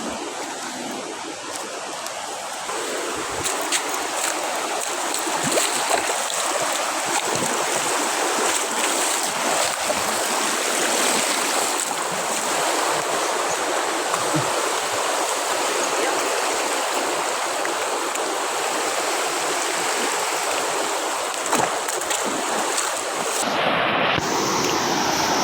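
Water in a river runs steadily, a continuous broad rushing and splashing that stays fairly loud and even from start to finish, with no voices over it.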